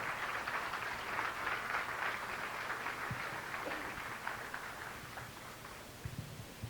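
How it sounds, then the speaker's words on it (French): Applause from a nightclub audience at the Tropicana in 1973 for a musical ensemble, a soft, distant, steady patter of many hands with a few nearer isolated claps toward the end. "On leur donne un bon tour d'applaudissement."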